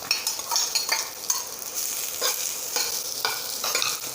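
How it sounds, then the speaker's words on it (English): Bottle gourd pieces fry with fenugreek seeds in a pan and are stirred, giving a steady sizzle with repeated scraping strokes of a spoon against the pan, close and clear, no talking. "Now we are going to add our lauki pieces to it."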